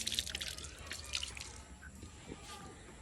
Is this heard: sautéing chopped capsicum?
no